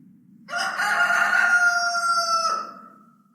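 A single rooster crows loudly and close by, one long drawn-out call of about two seconds with no other sounds over a low background hum, heard during a modern Spanish staging of the Passion.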